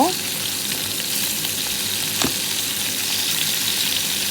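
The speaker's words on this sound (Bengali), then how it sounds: "দ্বিতীয় ব্যাচের মাছগুলো আবার আমি কড়াইতে দিব" Koi fish frying in hot oil in a kadai, a steady dense sizzle throughout with a brief louder crackle near the middle, close and fairly loud with no voices.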